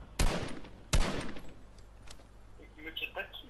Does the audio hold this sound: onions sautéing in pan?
no